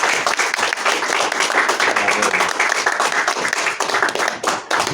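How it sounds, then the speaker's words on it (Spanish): Audience applause at a book presentation at an international book fair, loud close clapping from a room of people, dense and continuous before thinning out at the end. "y ahora aplaudamos y salimos"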